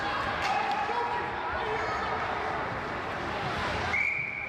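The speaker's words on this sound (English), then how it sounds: "There's an icing whistle there" Referee's whistle blows for icing during a playoff youth ice hockey game, a short shrill tone rising over steady crowd and arena noise and commentary, with a fainter earlier whistle heard too.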